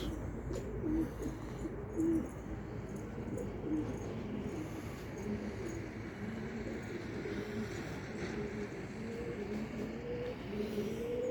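Pigeons cooing softly over a steady outdoor background rumble, with a few louder coos standing out near the start.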